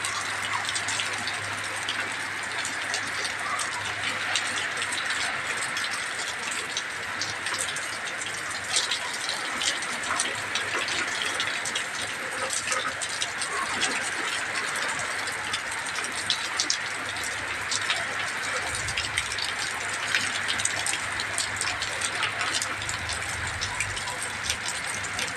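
A steady heavy downpour in late August, a constant dense hiss of rain pouring down outdoors, unbroken for the whole stretch.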